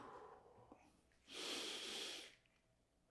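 A single heavy exhale after a kettlebell leg workout: one loud, breathy rush of air lasting about a second, close to the microphone, against a quiet room.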